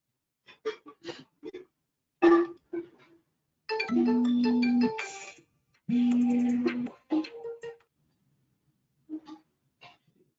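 A phone ringtone plays an electronic melody, short tonal notes followed by two longer sustained phrases, clear and close with no talking.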